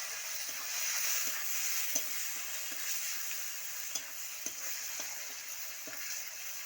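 Chopped tomato frying in oil for a chickpea and potato curry, a steady sizzle with occasional stirring clicks, alone and close.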